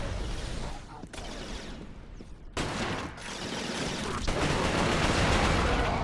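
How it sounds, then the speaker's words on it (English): Gunfire in the video game Resistance: Fall of Man, a dense, loud fusillade of rapid shots that continues throughout, with brief sharp breaks and heavier bursts toward the end. "You can't always go in guns a-blazing, but sometimes you can."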